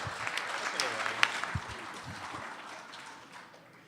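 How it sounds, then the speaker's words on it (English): An audience at a political town-hall event on Oregon jobs applauds after a question, a steady spread of clapping heard under a speaking voice that fades toward the end. "gets like an applause for a question"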